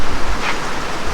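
Heavy, unbroken rain pours down during a typhoon, a dense steady hiss that fills the space evenly with no pauses.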